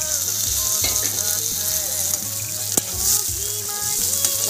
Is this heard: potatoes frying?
yes